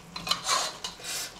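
Utensil scraping and stirring through meat and tomato sauce in a cooking pot for a maafe stew, giving a few soft, rasping strokes close up with no talk.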